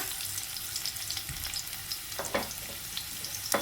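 Chunky pieces of ginger crackle and sizzle in hot oil for a chicken biryani masala, a close, steady frying hiss with a few sharper pops and stirring sounds toward the end.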